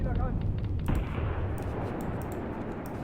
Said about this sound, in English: Direct hit with the artillery there.